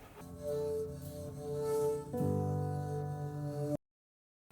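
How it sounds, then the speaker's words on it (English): Bowed double bass sounds out in sustained, textured arco tones, a steady droning layer with a shift in pitch partway through before cutting to silence near the end. "the bass switches from playing these quite textural bowed sounds"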